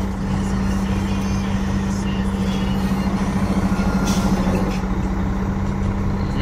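A Sterling truck drives around a yard with a loud, steady engine drone and a strong low hum, with brief hissy bursts near the end and no voices.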